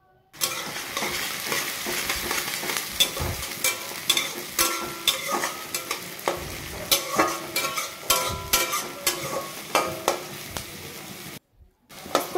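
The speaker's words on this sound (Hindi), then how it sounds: "अब कटे हुए प्याज डाल दूंगी।" Chopped onions fry in mustard oil in a kadhai with red chillies and cumin, giving a steady sizzle broken by repeated scraping stir strokes, close and fairly loud, with a brief quiet gap near the end.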